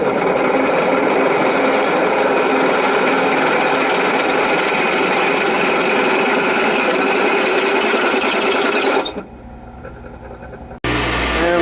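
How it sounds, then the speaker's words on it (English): A power drill bores a final hole during a furniture upgrade in an RV, running as a steady, loud, continuous whir for about nine seconds before it winds down and briefly stops, then restarts. "We'll go a small pilot hole first. And now the final hole."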